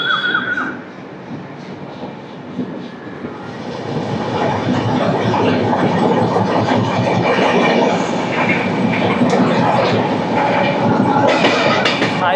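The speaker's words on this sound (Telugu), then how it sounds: "మన ప్రజెంట్ అయితే ఉదయ్ ట్రైన్లో ఉన్నాము" The Uday Express train running on its rails, a loud continuous rumble and rattle of carriages heard from inside, building up after a quieter opening and holding steady throughout.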